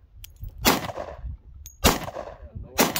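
Three sharp, loud reports from a Smith & Wesson M&P 10mm pistol fired outdoors, roughly a second apart, each with a short ringing decay, with quiet gaps between them.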